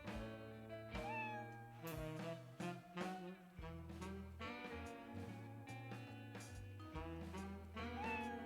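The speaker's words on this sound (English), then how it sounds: "Is it a cat? It is, in fact, a cat." A cat meows a few times, drawn-out and wavering, against a dense, steady musical background that stays loud throughout.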